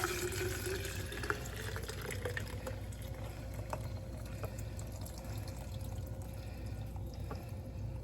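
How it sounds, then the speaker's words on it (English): Water pours in a steady, continuous rushing stream into a pitcher close by, with no talking. "And we're going to add 4 cups of water."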